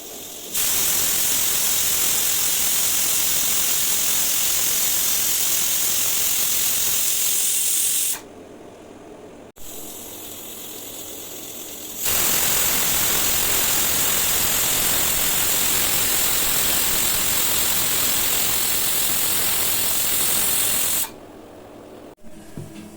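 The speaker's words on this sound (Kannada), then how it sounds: "ಇದು ಒಂದು 2 ವಿಸಿಲ್ಸ್ ಹಾಕ್ಸ್ಕೋಬೇಕು" Pressure cooker on the stove venting steam while cooking fresh field bean sambar, a loud steady hiss running in long bursts with brief quieter gaps between them.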